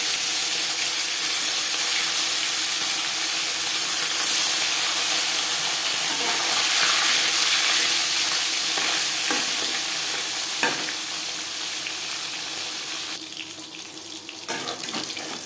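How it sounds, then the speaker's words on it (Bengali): Marinated fish frying in four spoons of hot refined oil for a Bengali fish curry, a steady, loud sizzle and crackle that hisses continuously close by, with occasional pops and a brief clatter near the end, no speech. "4 চামচ রিফাইন্ড অয়েল গরম করে নিয়েছি। এবার দিয়ে দেবো ম্যারিনেট করে রাখা মাছ।"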